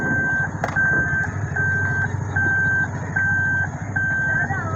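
Car reversing beeps during a driving lesson, a steady run of evenly spaced electronic beeps, about six in a row, over a low engine hum inside the car.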